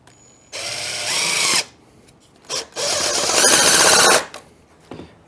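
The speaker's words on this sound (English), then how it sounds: "These screws use the deck screw star bit. So I want to go in here." A power drill with a star bit drives deck screws into a wooden fence gate in two sustained loud whirring bursts, the second longer and rising, with short trigger blips between and after.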